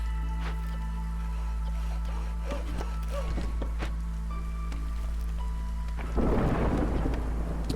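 A thunderstorm in the video game Against the Storm, with steady rain and distant rumbling thunder that swells into a louder roll near the end.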